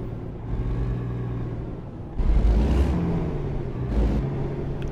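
A heavy truck engine fitted with an aftermarket exhaust, from the American Truck Simulator video game, rumbles deep and steady, swelling louder as it revs up midway and again near the end, with no voices over it.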